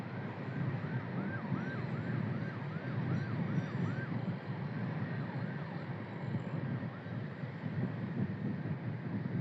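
An ambulance siren wails in repeated rising-falling sweeps as it passes on a road in Sleman, heard from a moving motorcycle under steady wind and engine rumble, fading out after several cycles.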